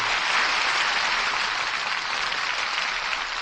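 A live radio theatre audience applauds for a steady, dense stretch of clapping that stays loud and even from start to finish.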